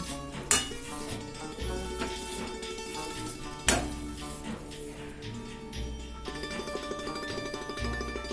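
A potato masher presses into beetroot cutlet filling in a pan, giving soft squelching pushes with two sharp metallic clanks against the cookware and intermittent low thuds, alongside faint background kitchen music.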